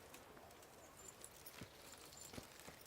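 Horse hooves clip-clop faintly in the medieval game Kingdom Come Deliverance, a few soft, sparse hoof strikes over a quiet, hissy background.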